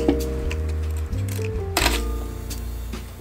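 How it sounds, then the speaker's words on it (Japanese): A Canon AE-1 film camera's shutter is released, giving one crisp mechanical click near the end over soft background music. "これで一回シャッターを押します。"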